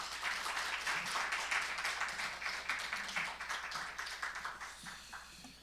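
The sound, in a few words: congregation applauding to welcome a pastor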